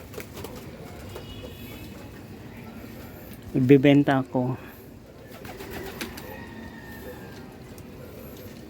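A pigeon coos in a short, soft burst midway through, close by, while a person talks over a steady background hum.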